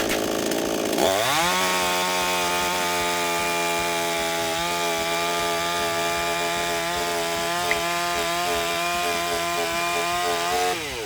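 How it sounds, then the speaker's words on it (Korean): A petrol chainsaw revs loudly and close, its engine droning at high pitch in one sustained roar as it cuts through two blocks of ice stacked together, with no talk over it. "자 이번에는 얼음을 이렇게 두 개를 붙였거든요. 두 개를 붙여서 자르는 걸 또 한번 보여봐 드릴게요."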